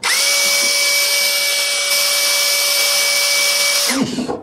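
A DongCheng DCJZ2060i hammer drill runs at speed 2 with a loud, steady high-pitched motor whine, close up, then winds down abruptly near the end.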